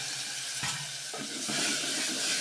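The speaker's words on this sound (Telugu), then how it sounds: "వేగిన తర్వాత టమాటా దాంట్లో కారం ఇంకా వేసాను" Tomatoes frying in a pan with chili powder, a steady hissing sizzle that swells slightly toward the end, with a couple of soft stirring knocks, close and without voices.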